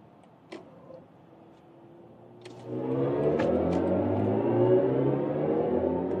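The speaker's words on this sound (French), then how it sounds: "c'était l'accélération sur l'autoroute" A BMW i5 M60 Touring accelerates on the motorway: a quiet cabin swells into a steady, layered electric-motor whine and road hum that holds strong to the end.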